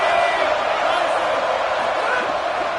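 A college football stadium crowd at Florida versus FSU roars on a third-down red zone play, a loud, sustained wash of cheering and yelling from thousands of fans that holds steady throughout.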